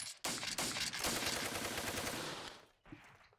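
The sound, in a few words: machine gun fire in Steel Panthers video game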